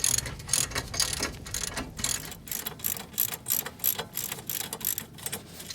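Hand ratchet cranking down the caliper bracket bolts on a Chevrolet Sonic's front disc brake, a steady run of quick metallic clicks in repeated bursts, close and clear with no talking.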